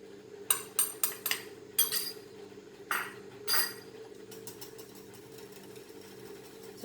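A spoon stirs gram flour, or chickpea flour, into curd kadhi, clinking sharply against the pot in quick bursts, then settling into softer scraping over a low steady hum.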